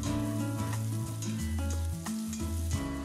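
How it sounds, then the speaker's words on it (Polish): Vegetables sizzle and crackle steadily in hot olive oil, a close, constant frying hiss with occasional stirring. "podsmażam składniki na rozgrzanej oliwie"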